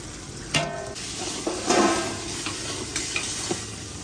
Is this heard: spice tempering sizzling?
yes